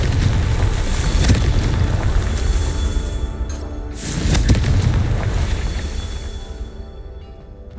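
A Confringo explosive spell blasts in Hogwarts Legacy on Xbox Series X: two loud booming detonations, the second followed by a long rumbling decay that fades out.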